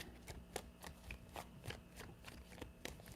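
A deck of tarot cards is shuffled in quick, soft riffling bursts, a series of close papery flicks at a fairly even rhythm, quiet and without talk.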